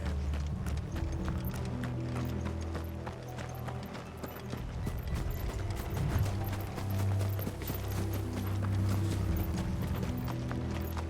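Horse hooves clip-clop steadily in the Final Fantasy XVI video game, a dense run of close, even hoof strikes over a low rumbling backdrop with no talk.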